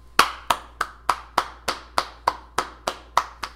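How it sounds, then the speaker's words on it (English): A single person claps slowly and evenly during a university Q&A, about a dozen sharp, close hand claps spaced roughly a third of a second apart, with no talk over them. "round of applause, man"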